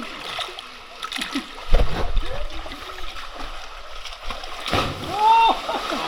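A sharp splash of someone jumping into deep water at a swimming spot, followed by gurgling and lapping water, with excited voices calling and chattering throughout.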